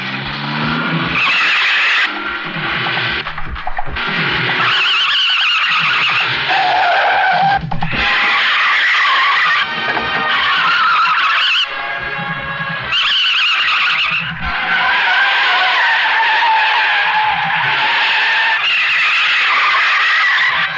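A car drives with tires skidding and squealing, loud and continuous with repeated surges, mixed with dramatic film music and no talk.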